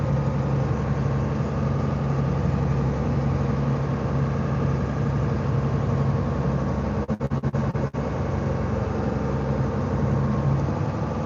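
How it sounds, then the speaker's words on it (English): A fishing boat's engine idles in a steady, loud, continuous drone while travelling in Alaska, a low even rumble with no voices over it. "Our little boat, she's just purring away."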